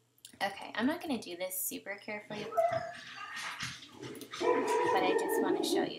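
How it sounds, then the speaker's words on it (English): A dog whimpers and yips in short bursts close by, while a person keeps talking over the sounds. "Sorry about my dog."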